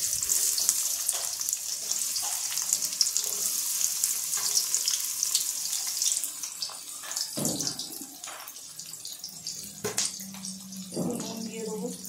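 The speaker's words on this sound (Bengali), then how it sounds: "তেল গরম হয়ে গেছে, এবার আমার কুচিয়ে যে পেঁয়াজগুলো রেখেছিলাম সেই পেঁয়াজগুলো দিয়ে দেবো।" Chopped onions fry in hot oil in a kitchen, giving a loud, steady, close-up sizzle that carries throughout, with a few stirring clacks and knocks toward the end.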